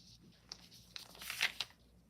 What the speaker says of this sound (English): You might hear a little crinkling paper because I have some notes over here.